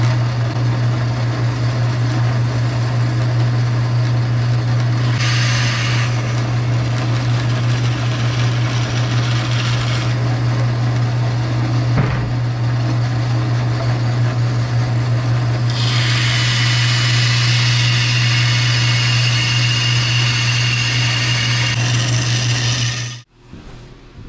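A vintage Rockwell Delta mini bandsaw runs with a steady low motor hum, its whine rising in bursts as the blade cuts through 2x4 lumber, loud and close, then stops abruptly at the end.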